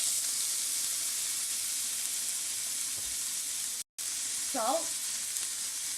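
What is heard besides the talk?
chopped onions frying in oil in a pan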